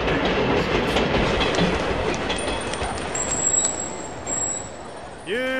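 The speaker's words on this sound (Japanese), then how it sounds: "まもなく列車が到着いたします。" A train pulls into a station platform, its rumble and rail clatter filling most of the span, with high brake squeals appearing, then a chime-like tone rising at the end as a voice is heard.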